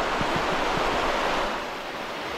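Steady broadband rush of river water flowing at a riverside campsite in Norzagaray, Bulacan, loud and continuous with faint low thumps early on, softening slightly toward the end, with no voices.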